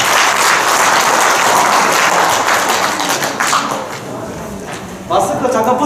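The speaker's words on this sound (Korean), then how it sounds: "박수로 맞이해 주시기 바랍니다." An audience at a wrestling coaches' and referees' training session applauds to welcome a lecturer, with loud dense clapping that thins out briefly before a fresh burst near the end.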